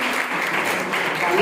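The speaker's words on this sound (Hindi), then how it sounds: "आयुषी दुबे, शोभिया नाज, ताली बजाते जाइए" Audience clapping at a medal ceremony comes as a steady dense patter of many hands, moderately loud and continuous, with no voice over it.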